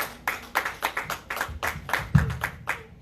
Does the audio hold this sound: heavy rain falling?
no